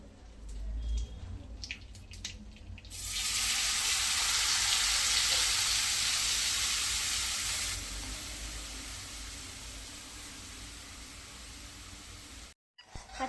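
A sauce mixture for pasta hits a hot buttered pan and sizzles as a loud, steady broadband hiss for about five seconds, then settles into a quieter bubbling hiss with no talking.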